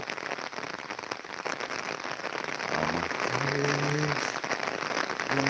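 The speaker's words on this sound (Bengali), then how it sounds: "আলহামদুলিল্লাহ অনেকদিন পর বৃষ্টি আসতেছে অনেকদিন পর" Rain falls after a long hot spell, a dense, steady patter on surfaces that grows somewhat heavier midway, with a few faint tonal sounds in the background.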